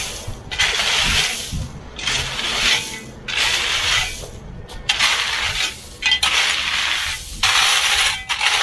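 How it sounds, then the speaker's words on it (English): A drill grinds into limestone in repeated harsh bursts, each about a second long, separated by brief pauses, close and fairly loud. "I'm going to drill and pin it into that top porch."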